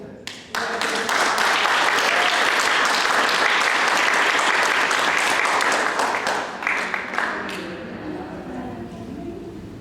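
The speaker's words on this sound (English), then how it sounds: "that's why we're clapping, because you are phenomenal" A large audience breaks into loud, sustained applause after a short quiet start, the dense clapping holding strong for several seconds before gradually thinning out and fading toward the end.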